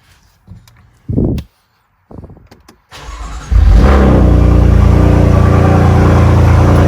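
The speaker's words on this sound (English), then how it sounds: "So I'm gonna go ahead and start the engine now." A BMW M3/M4 F80 S55 engine cranks in a few short bursts, then catches and settles into a loud, steady idle with rising revs, close to the microphone.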